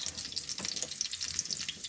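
Steady crackling sizzle of onions frying in a pan, close and continuous, with light popping and no voices.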